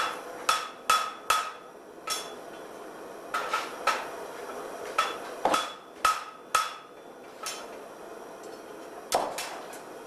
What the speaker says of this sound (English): There's still a lot of hammering involved, but light hammering does a lot more than severe pounding.